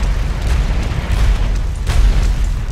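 A meteor spell slamming down in the Magicka video game, a loud, rumbling explosion with heavy low booms that roll on for a few seconds.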